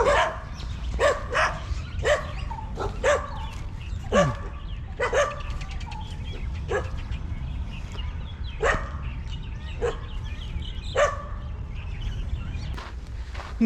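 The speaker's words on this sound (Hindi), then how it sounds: "जगह जगह कुत्ते।" Several dogs bark in Sanjay Van forest in Delhi, sharp scattered barks and yips at moderate distance repeating irregularly over quiet background ambience with faint birds.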